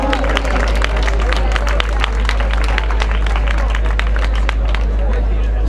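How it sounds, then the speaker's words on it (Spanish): A large crowd applauds a breakdance crew at the Breakin the Beat 2015 breaking final: dense, loud, steady clapping with cheering that holds unbroken for the whole stretch. "¡Aplauso!"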